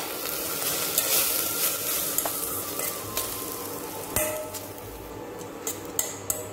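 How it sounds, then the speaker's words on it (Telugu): Garlic sizzles and fries in a pan for tomato mint chutney, a steady crackle with scattered clinks of a spoon against the pan, close and without talk. "దీంట్లో వెల్లుల్లిపాయి ఇవన్నీ వేయించుకొని కొద్దిగా లైట్ గా ఈ స్మెల్ పోయే వరకు కూడా వీటిని వేయించుకోవాలి"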